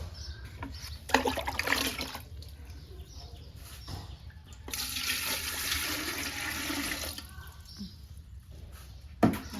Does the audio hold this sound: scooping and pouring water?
yes